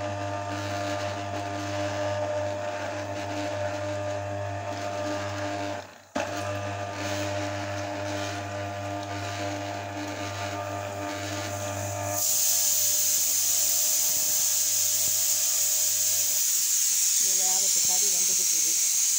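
An electric orange juicer spins while fruit is pressed lightly onto it, a steady motor hum with a brief dip midway, then the tone changes to a brighter hiss near the end, close up with a voice speaking over it.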